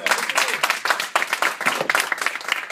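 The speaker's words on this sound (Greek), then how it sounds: "ένα μεγάλο χειροκρότημα για το" Dense applause and clapping from a gathered group at a PAOK football club farewell, many hands overlapping in a steady, close burst without pause.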